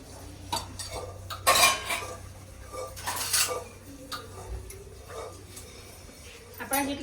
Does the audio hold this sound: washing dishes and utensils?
yes